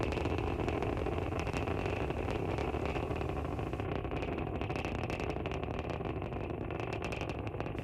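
A SpaceX Falcon 9 first stage climbing through flight, heard as a steady, dense roaring rumble that holds evenly for the whole stretch, broadband and constant with no voices on top.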